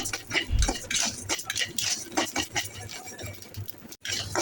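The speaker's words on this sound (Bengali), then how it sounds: "আমি এখানে চালগুলোকে ভালোভাবে ভেজে নেব নেড়ে চেড়ে ভেজে নিচ্ছি" Rice grains being stirred and dry-fried in a pan, giving a busy scraping, rattling patter of utensil against metal with a few louder knocks, close and continuous with a brief pause near the end.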